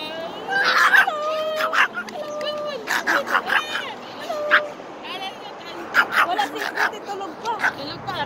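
A small fluffy dog whimpers and yips repeatedly in high, wavering cries and short barks outdoors during a walk, with a person talking to it.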